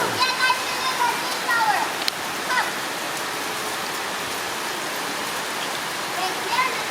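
Heavy rain pours steadily during a rainy day in the Philippines, a dense continuous wash of falling water, with children's voices and shouts rising over it early on.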